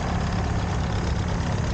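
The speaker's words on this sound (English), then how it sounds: "He's driving his 1959 John Deere 435. That has a General Motors diesel engine in that." A 1959 John Deere 435 tractor with a 32-horsepower General Motors diesel engine runs at a show, giving a close, steady low diesel drone that continues without a break.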